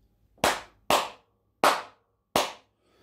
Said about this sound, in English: Notice whenever I clap that the cartridge flashes.